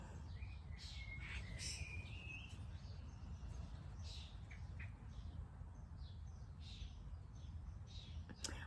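Small birds chirp and tweet outdoors in short scattered calls, fairly faint over a constant low background rumble throughout.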